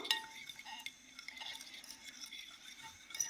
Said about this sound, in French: Je vais prendre ma fourchette et je vais mélanger.